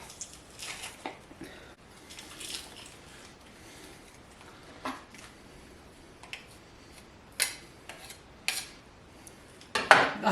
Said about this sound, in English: or you could use the shortcut of this garlic, what are these called? Garlic smasher thingies?